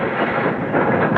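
Radio drama sound effect of a train pulling into a station, a steady, loud rumble of rail cars with clickety-clack under the wheels, heard alone without talk.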